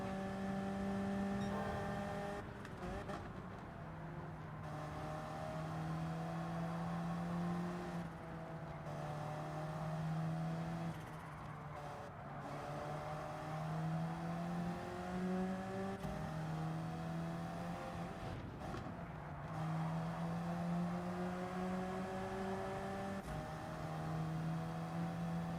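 Race cars in a racing video game drone steadily with rising engine pitches that drop sharply at each gear shift, repeating every few seconds at moderate volume.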